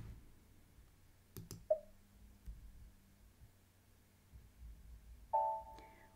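A couple of sharp computer mouse clicks save a routing in SAP S/4HANA production planning software, with a faint electronic chime near the end over quiet hum.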